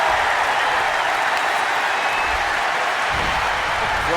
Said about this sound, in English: The crowd is on their feet.